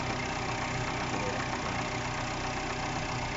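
A Peugeot 508 car engine idles steadily, a dense even rumble that stays constant and close throughout with no talking.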